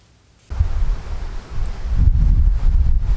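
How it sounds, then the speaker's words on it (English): Gusty wind buffets the microphone outdoors, a low rumbling roar that kicks in suddenly and swells stronger partway through. "It's a little windy here."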